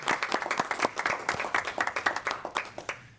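A small group at a city council meeting claps in an irregular patter of individual handclaps, close and moderately loud, fading out after about three seconds.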